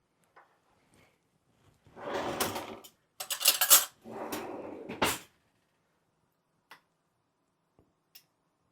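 A jar of Sri Lankan lime pickle being opened close up: a few seconds of scraping, twisting lid clicks and rustling in three bursts, followed by a couple of faint isolated ticks.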